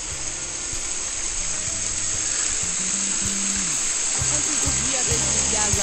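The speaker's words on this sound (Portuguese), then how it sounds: "Capão da Onça, cachoeira linda" The Capão da Onça waterfall near Ponta Grossa roars as a steady, loud, broad rush of falling water, with music and a voice running over it.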